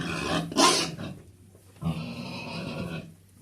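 A sow a week after farrowing screams in a pig barn, two loud harsh squeals separated by a pause, close by, with no talk over them.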